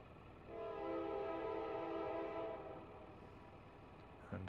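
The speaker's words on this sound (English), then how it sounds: "And now I hear the choo-choo." A passing train sounds its horn in a long, steady chord that holds for a couple of seconds and then fades, heard from some distance over a low rumble.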